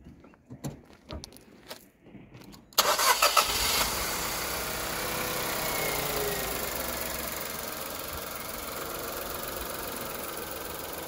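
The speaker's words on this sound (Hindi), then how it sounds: "तो दोस्तों मैं स्टार्ट करता हूँ इसको" A Nissan Magnite's engine cranks and catches after a few faint clicks, then settles into a steady, fairly quiet idle that runs close and alone to the end.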